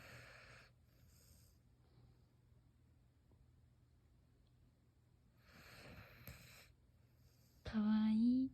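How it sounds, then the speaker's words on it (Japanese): An older Siberian husky snores in quiet, breathy, human-like rasps, two separate snore bursts spaced several seconds apart, close by, before a louder rising whine-like sound at the end. "いびき。"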